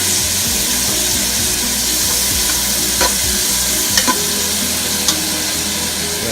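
Shrimp hits a hot pan during the making of garlic Parmesan shrimp pasta, setting off loud, continuous sizzling and frying with a few stirring clinks, close and with no voices.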